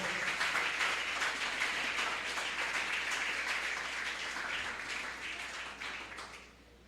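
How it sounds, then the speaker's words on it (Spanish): A church congregation claps together in steady, dense applause through a worship service, loud and sustained for several seconds before tapering off at the end, with no talking over it. "denle un fuerte aplauso a Dios."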